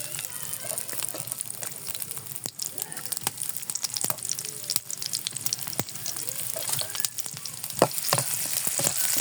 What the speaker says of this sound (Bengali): কড়াইতে আমি তেল দিয়ে দিয়েছি।